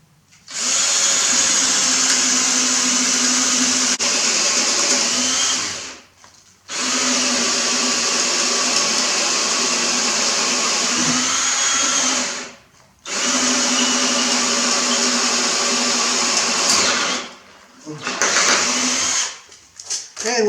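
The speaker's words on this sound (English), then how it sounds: "And we're going to come in and drill a hole." A drill boring a hole through metal stock held in a jig for a triangle wind chime, running in three long steady whining bursts separated by brief pauses, close and loud.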